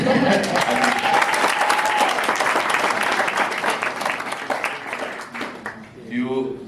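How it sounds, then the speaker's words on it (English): An audience breaks into applause, a thick wash of clapping that holds steady and then thins out, with a voice starting to speak as it fades at the end. "I think it deserves a little bit of a louder clap."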